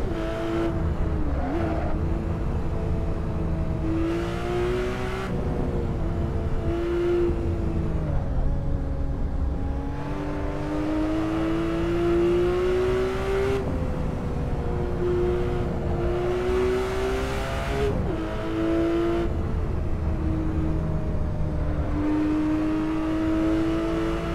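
Car engine in a VR racing game on the LA Canyons track, revving steadily with rising and falling pitch through gear changes, loud and continuous for the whole stretch, with no voices.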